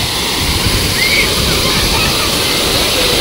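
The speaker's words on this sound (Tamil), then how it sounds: "தண்ணி செம தண்ணி போயிட்டு இருக்கு" Water rushes over a small waterfall at Thaiyur lake near Kelambakkam, Chennai, a loud, constant close-up roar with no break.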